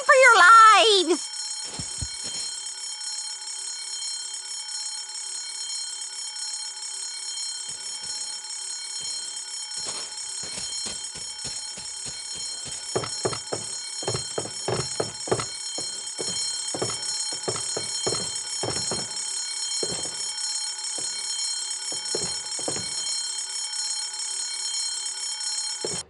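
A fire alarm rings steadily in the adventure game Escape from Monkey Island, a continuous loud electric ring that runs throughout while several voices speak and exclaim over it.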